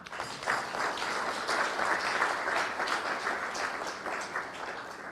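A large audience claps continuously, a dense wash of applause that swells slightly and holds steady, heard from within the room.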